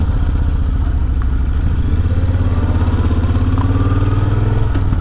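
A Kawasaki VN1500 chopper motorcycle engine rumbles loudly and steadily while riding, with a deep, rhythmic V-twin thump and mechanical clatter close by.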